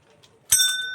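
A temple bell at a Krishna shrine in the Muktidham complex in Mohda, Chhattisgarh, is struck once midway through. Its bright metallic ring sustains to the end after a quiet start.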